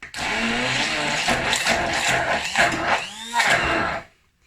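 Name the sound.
stick blender blending pesto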